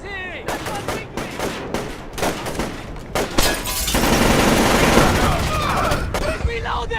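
Dense gunfire from the Splinter Cell video game: sharp shots and rapid automatic bursts rattling for several seconds, loud and close, with excited voices shouting over the battle.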